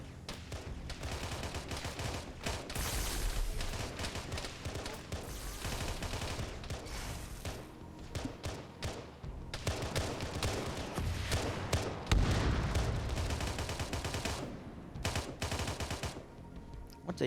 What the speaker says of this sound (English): he's firing at the shade back there